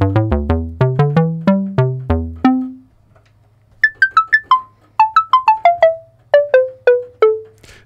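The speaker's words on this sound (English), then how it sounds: "This could actually be a xylophone" An ARP Pro DGX synthesizer preset with a xylophone-like timbre plays quick mallet-style notes that decay fast. A lower descending run is followed by a short pause, then bright higher phrases stepping downward, with no voices.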